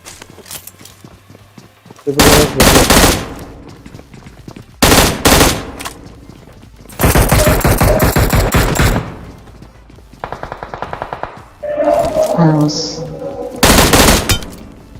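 M16 rifle fire in a battle royale shooter game: several loud, close bursts of rapid automatic shots separated by short quieter gaps, with other faint game sounds in between.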